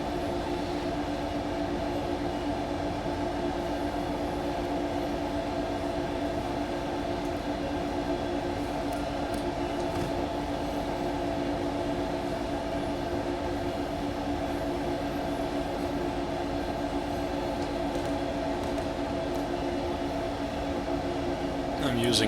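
Electric locomotive on the Main-Spessart line in Train Sim World 4, a steady continuous rail hum with tonal motor whine and rolling noise throughout, close and even in level, swelling slightly at the very end.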